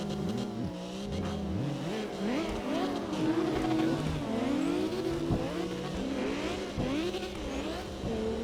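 A car engine in the CarX drifting game revs hard and rises and falls in pitch as the wheels spin, with squealing tires layered over a steady, close engine drone for the whole stretch.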